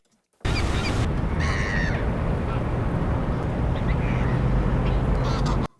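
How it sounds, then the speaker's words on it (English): Bird sound effects fill the clip, a loud, dense wash of chirping and calls that starts abruptly and cuts off just as suddenly, with a few sharper squawks on top. "I don't want those kind of big bird sounds."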